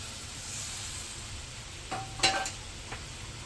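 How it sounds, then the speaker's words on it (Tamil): Cooked moong dal goes into a kadai and is stirred, a faint soft sizzle with a few quick spoon scrapes and clinks against the metal pan. "இப்போ அதே கடாயில் நம்ம வேக வச்சுருக்கோம் இல்லையா பாசிப்பருப்பு, அதை விட்டுக்கணும்"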